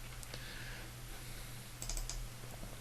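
Typing on a computer keyboard, a quick irregular run of light key clicks close up, with a brief louder burst near the end.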